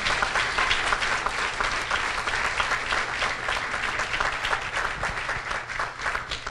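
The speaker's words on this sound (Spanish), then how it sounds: "Dele ese aplauso fuerte al Señor." A church congregation applauds loudly and steadily, a dense, sustained wash of many hands clapping close and continuous for several seconds with no pause.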